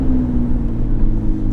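A Lotus Evora S sports car with a 450 hp engine roars inside a tunnel, its loud, steady, booming low drone echoing close and continuous without any speech.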